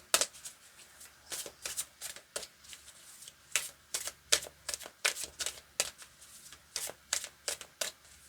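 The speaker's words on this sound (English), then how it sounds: "I want to do some more shuffling." Tarot cards being shuffled by hand close to the microphone, a quick irregular series of crisp riffling bursts and slaps with no talking.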